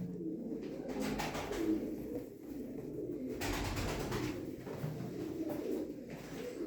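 Pigeons coo over and over at a bird auction, soft throaty calls that come in bursts and overlap one another, fairly near, with a low murmur of background noise under them.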